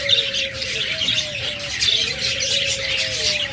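Caged budgerigars, cockatiels or lovebirds chirp and call in a busy, overlapping chorus, with repeated sliding whistle-like notes over dense high twittering, steady and fairly loud throughout with no talking.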